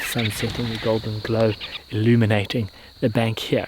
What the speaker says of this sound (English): all the crickets and riverine insects all starting to make a little bit of noise